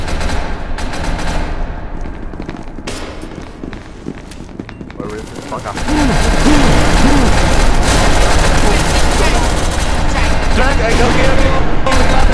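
Gunfire erupts in the video game SCP Laboratory, bursts of rapid shots and running footsteps growing louder midway, with excited voices talking over the action.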